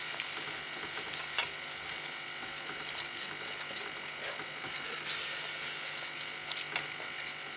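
A spiced masala of turmeric, coriander powder, garam masala and black pepper is stirred in oil in a pan for aloo baingan sabzi, giving faint scraping and gentle sizzling with scattered clicks.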